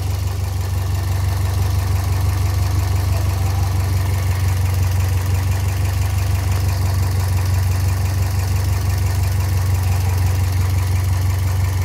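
A modified second-generation Toyota Vios sedan idles steadily and smoothly, its low engine hum close and constant with no voices throughout.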